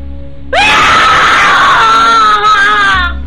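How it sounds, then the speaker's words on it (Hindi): A woman lets out one long, piercing scream at full strength, starting abruptly and holding loud and close for nearly three seconds before cutting off. "रोशनी अपनी पूरी ताकत से चीखी"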